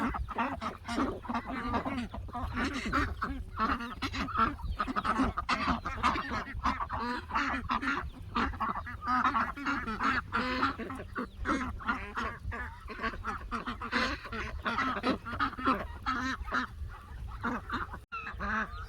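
Chickens and a turkey at feeding time in a backyard pen, a dense, continuous chorus of honking, clucking and squawking calls close by, overlapping without pause.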